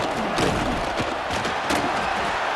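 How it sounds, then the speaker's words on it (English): A stadium crowd in the EA Sports College Football 26 video game roars steadily during a red zone defensive stand, a dense continuous wash of cheering and shouting with faint thumps. "This crowd is trying to inspire this defense to make a big red zone stop."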